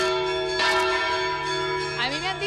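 Large two-tonne church bells ring at a bell concert in Carlet. Heavy, sustained tolling hangs in the air with a fresh strike midway and rich, ringing overtones that build on one another.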